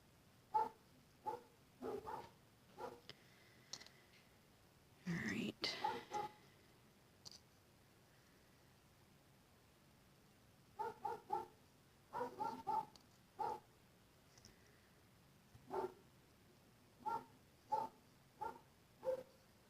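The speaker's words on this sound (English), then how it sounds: "Sorry about the dogs next door." Dogs barking next door in short bursts, some single and some in quick clusters, scattered irregularly and fairly faint as if heard through a wall.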